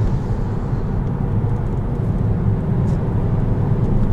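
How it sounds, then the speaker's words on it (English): A 2017 Volkswagen Jetta GLI's four-cylinder engine pulls hard under acceleration, a steady, loud broadband drone heard from inside the cabin with no voices over it. "It's amazing what a little four-cylinder can do."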